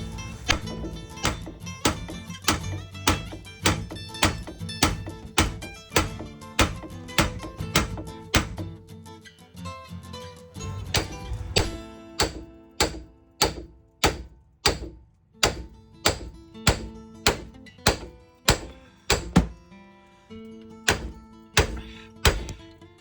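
Hammer striking the front wheel bearing and axle on a 2015 Ford Explorer, a long run of sharp, ringing metallic blows in steady rhythm, loud and close, with brief gaps between bursts.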